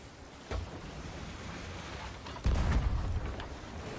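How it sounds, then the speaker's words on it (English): Turbulent ocean waves in a pirate ship video game surge and crash as rumbling bursts of churning water, with a heavier swell rolling in midway under wind-like noise and no speech. "these waves are very turbulent"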